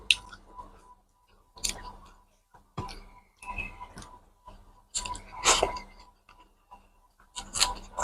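Close, soft chewing of a meal of rice with leafy greens, with irregular wet bites and squishes spread across the clip and no talking.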